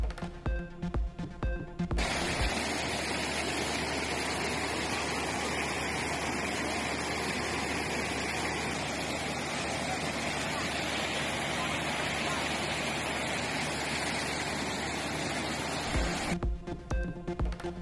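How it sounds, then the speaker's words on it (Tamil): Rainwater leaking from an Ahmedabad Vaishno Devi tunnel gushes like a waterfall in a loud, unbroken roar, with speech briefly heard at the start and end. "அகமதாபாத் வைஷ்ணவ தேவி சுரங்கப்பாதையில் ஆங்காங்கே அருவி போல் கசிந்த மழைநீர்"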